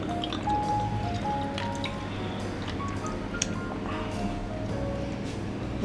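Dark rum pours into a glass close by, a soft steady trickle with small drips and splashes.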